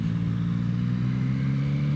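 Yamaha MT-09 motorcycle from 2021 cruising along, its engine holding a steady low drone with no clear revving, close and continuous throughout, with no voices.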